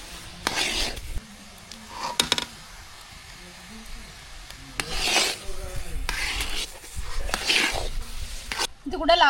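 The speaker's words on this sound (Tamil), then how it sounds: "கொஞ்சம் கொஞ்சமாக இது வரைக்கும் நெய் சேர்த்துக்கிட்டே கிண்டி விடணும்." A sweet is stirred in a pan while ghee is added bit by bit, giving scraping, rasping strokes in uneven bursts. The sound is close and moderately loud, and a voice talks in places between the strokes.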